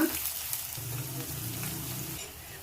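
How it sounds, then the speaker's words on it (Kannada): Thinly sliced onions fry with whole spices such as cardamom, cloves, cinnamon, cumin and fennel, giving a steady, moderate sizzle close by, with a soft voice briefly underneath. "2 ಈರುಳ್ಳಿ ಸಣ್ಣ ಕಟ್ ಮಾಡಿದ್ನಂದ್ರೆ ಉದ್ದುದ್ದಕ್ಕೆ ಸಣ್ಣಕ್ಕೆ. ಈಗ ಸ್ವಲ್ಪ ಫ್ರೈ ಮಾಡ್ಕೊಡೋಣ."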